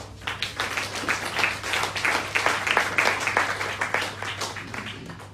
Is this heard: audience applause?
yes